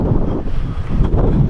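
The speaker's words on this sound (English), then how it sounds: "Man, it's so windy." Strong wind buffets the microphone in a constant, heavy rumble.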